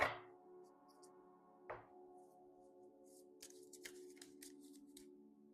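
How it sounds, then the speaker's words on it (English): Tarot cards being shuffled: faint, soft riffling and light slaps of card stock in brief uneven bursts over a quiet room hum. "I'm shuffling"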